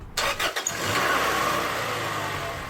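Honda Accord 2.2 or 2.3-liter four-cylinder starting after a thermostat replacement, a few clicks and a brief crank, then settling into a steady, fairly quiet idle.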